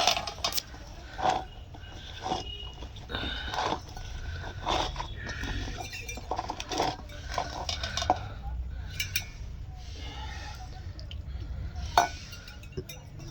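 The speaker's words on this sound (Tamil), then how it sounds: "இப்போ வந்து நல்லா ஒரு கலக்கலாம்" Spoon stirring and scraping cauliflower with masala in a pan for shop-style cauliflower chilli, irregular metallic clinks and scrapes, close and moderately quiet.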